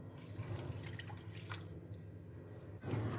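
Grated potatoes and carrots being rinsed in water, with steady dripping and sloshing under a constant kitchen hum, and a louder splash near the end.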